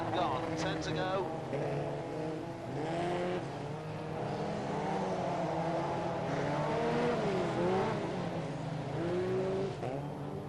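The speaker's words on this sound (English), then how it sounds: "And that's the green, so we go racing once again into the second half of the Mercia Health Benefits Trophy Final." F2 stock cars race at Coventry in August 1994, a steady roar of several engines rising and falling as they circulate the track, with a commentator talking over the noise throughout.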